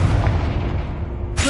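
A Confringo fire spell explodes in the Hogwarts Legacy video game, a dull booming blast with a rumbling low tail, then a sharp bright burst right at the end.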